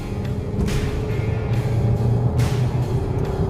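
Turbocharged engine of a 2026 Volkswagen Tiguan R, rated at 268 horsepower, producing a steady, loud low rumble with slight swells, heard on its own without talk.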